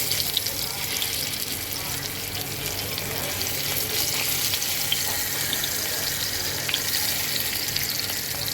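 Katla fish pieces fry in hot oil, making a continuous, moderately loud hiss and crackle that stays even throughout with no speech.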